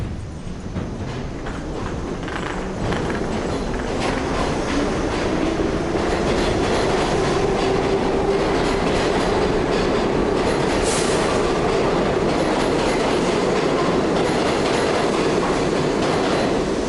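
A metro train runs steadily along the rails, wheels clattering and a faint squeal rising midway, loud and continuous with no voices over it.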